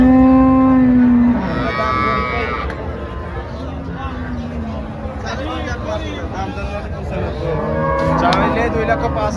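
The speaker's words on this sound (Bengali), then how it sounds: "বিগ বডির গাভী, সঙ্গে 15 লিটার দুধ, আবার সঙ্গে বকনা বাচ্চা" A large dairy cow lows at a crowded cattle market in Bangladesh, one long moo opening the scene and another near the end, with a steady babble of voices and people talking around it.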